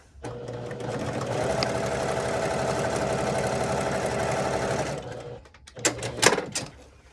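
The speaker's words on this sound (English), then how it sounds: "I'm going to sew that right down on there" Sewing machine running steadily for about five seconds at a constant hum while stitching quilt pieces, then stopping, followed by a few soft handling clicks nearby.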